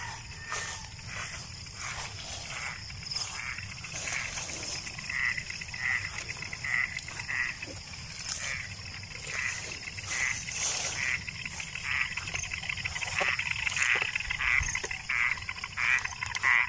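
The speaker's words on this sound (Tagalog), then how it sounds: "Ang ingay pa ng mga palaka kasi umulan kagabi." A dense chorus of frogs croaking steadily after overnight rain on a farm, layered with insect-like trilling and occasional soft rustles, continuous throughout at moderate level.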